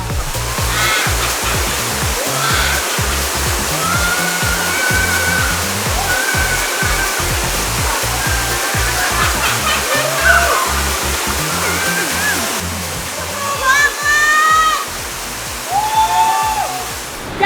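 Serayu River water rushing over rapids during river tubing, a loud, dense, continuous roar of churning water up close, with faint distant voices and bird-like squeaks briefly audible.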